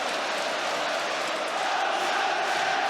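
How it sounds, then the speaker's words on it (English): Football crowd at the Riverside stadium during a Middlesbrough match against Chelsea, a dense continuous roar of many voices, loud and sustained without letup. "The crowd's booming their support around the Riverside"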